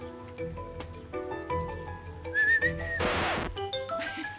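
Someone whistles a few rising tones amid outdoor background noise, with a sudden loud rushing burst partway through.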